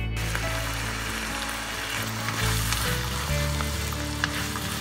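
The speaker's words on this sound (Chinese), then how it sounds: "我们要放的是蒜、辣椒和洋葱都切成丁，再煸炒这么1分多钟" Diced garlic, chili and onion stir-fry in a hot pan, giving a steady close sizzle with light stirring and a brief shift in the crackle midway, no voices.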